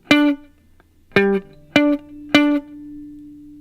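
Electric guitar playing the closing measure of a song as a beginner riff: four clean picked notes with the last one left ringing, played alone and clearly.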